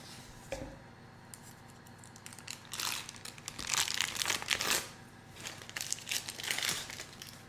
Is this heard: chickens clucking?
no